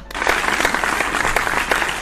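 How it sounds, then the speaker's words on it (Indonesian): Dense applause from a church congregation, steady and fairly loud throughout, with no voices standing out. "Tepuk tangan semua."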